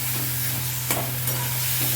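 Taro leaves and soaked chickpeas fry in a pan over raised heat while being stirred, a steady close sizzle with a couple of sharper scraping strokes of the spoon, no voices.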